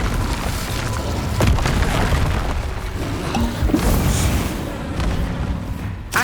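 In Hogwarts Legacy, an Incendio fire spell erupts in a dense, roaring blast amid busy combat noise, with several booming hits and crackles spread across a few seconds.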